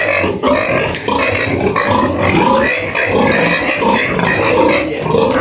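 Loud, dense grunting and oinking from several pregnant sows close by in a pig pen, continuous and overlapping throughout with no pauses.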